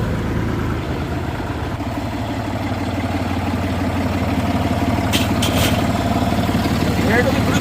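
The 3-cylinder engine of a 1974 O&K MH3 excavator runs at a steady, close, throbbing idle throughout, with a few brief sharp knocks near the end.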